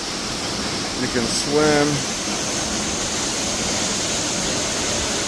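A waterfall in Matagalpa, Nicaragua roars as a steady, loud wash of falling water, with a brief spoken voice over it.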